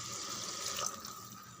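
Water pours steadily from a tumbler into a cooking pot for paasiparuppu kichadi, a soft continuous splashing flow heard close by with no talking.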